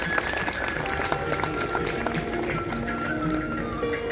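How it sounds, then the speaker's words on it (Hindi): An audience at a Brahma Kumaris silver jubilee event in Mumbai applauds to welcome Kunti Bahen, a dense, sustained burst of clapping from a crowd, fairly close and steady throughout. "और इन्हीं जोरदार तालियों के साथ हम स्वागत करते हैं हमारी अपनी कुंती बहन जी का।"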